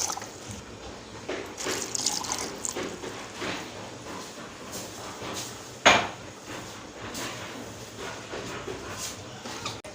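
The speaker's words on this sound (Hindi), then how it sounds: "2 गिलास पानी डाल देंगे।" Two glasses of water poured into raw mango juice in a kitchen, a soft continuous liquid wash with light dish and utensil clinks and one sharp clatter near the middle.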